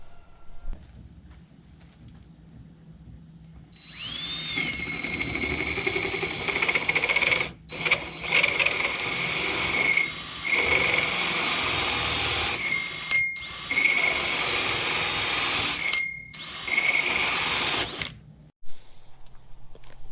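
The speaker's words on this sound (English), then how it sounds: "that way we can drill without shaking, and we get a perfect hole saw" A drill drives a hole saw through a boat hull during bilge pump installation, giving a loud, steady grinding whine in several long bursts separated by brief pauses.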